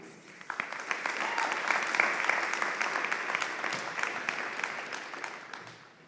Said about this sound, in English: giving them a big round Nittany Lions round of applause